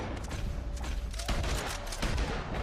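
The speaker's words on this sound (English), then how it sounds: "Gunshots are coming from that barn." Rapid bursts of gunfire crackle continuously, loud and dense, like a volley of shots echoing in a battle in Red Dead Redemption 2.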